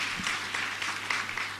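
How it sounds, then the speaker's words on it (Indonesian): Church audience applause during a service, a continuous dense wash of clapping from many hands throughout the short moment. "Boleh tepuk tangan."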